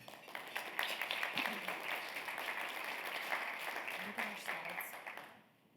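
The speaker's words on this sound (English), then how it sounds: "So please give them a round of applause" An audience at a medical conference session applauding its pharmaceutical sponsors, sustained clapping from a roomful of people with a few voices mixed in, fading out at the end.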